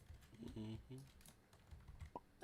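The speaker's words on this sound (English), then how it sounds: "I hear furious typing." Furious typing on a computer keyboard clatters quickly during a naval wargame session, partly masked by people talking over it nearby.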